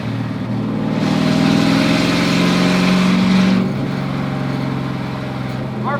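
A Chevy Camaro Z28 1LE race car engine revs up with a loud, steady rising drone for a few seconds, then drops back to a lower running note, heard close with no talking.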